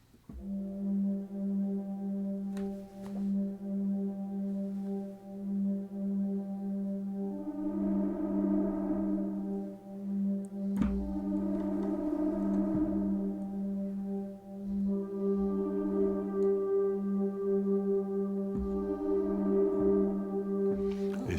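Long Underpass, a virtual instrument preset by Alex Epton with an analogue character, sustains a low droning tone while swelling pad chords rise and fade in slow waves, with occasional soft clicks and no voices.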